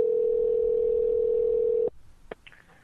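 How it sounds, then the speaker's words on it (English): A steady, loud telephone dial tone plays alone for almost two seconds and then cuts off, followed by a couple of faint brief clicks as the call is placed. "Let's get Philippe on the phone"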